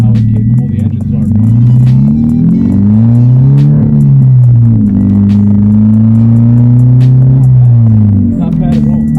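A Subaru BRZ engine accelerates and revs for a long stretch, its loud droning note climbing, dipping and rising again close by.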